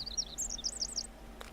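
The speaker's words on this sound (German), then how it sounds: "Hey, Vögelchen." A small bird chirps in a rapid series of high, warbling tweets near a forest campsite, clear and close against quiet background hum, then stops.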